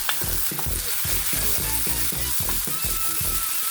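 Tomato, onion and sponge gourd (patola) stirred in a hot pan, a steady loud sizzle broken by a regular series of scraping stirs, close and continuous.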